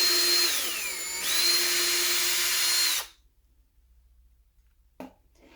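A Ryobi drill driver whines steadily while boring a hole in wood, dipping in pitch briefly under load, then stops abruptly, followed by silence and a single light knock.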